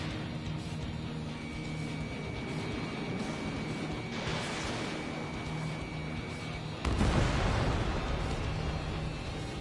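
A missile launch and explosions from the combat flight game Ace Combat 7: a steady roaring engine bed, a whooshing swell midway, then a sudden loud blast that stays heavy and rumbling to the end.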